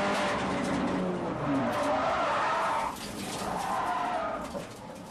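A race car spins out on track as its tires lose grip, giving a loud continuous skidding screech with engine roar that stays strong for about three seconds, then shifts to a second sustained squeal.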